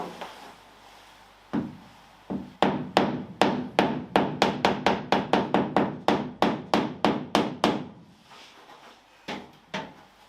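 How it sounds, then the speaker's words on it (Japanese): A light plastic hammer taps dents out of the bonnet of a Mazda RX-7 FD3S, giving about twenty crisp, evenly paced knocks in a fast run after a few single taps, close and loud. "プラスチックの軽いハンマーで様子見ながら少しずつ落としていきます"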